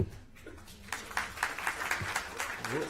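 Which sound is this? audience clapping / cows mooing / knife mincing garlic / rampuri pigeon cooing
audience clapping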